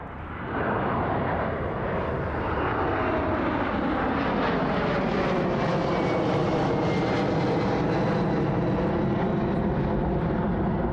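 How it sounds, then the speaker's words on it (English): Airbus A300 jet taking off in the evening at East Midlands Airport, a loud sustained engine roar that swells and holds steady with a sweeping, phasing rumble as the aircraft passes nearby. "Let's pan around and catch the departure of that A300 this evening."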